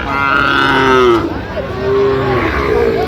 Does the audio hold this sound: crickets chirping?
no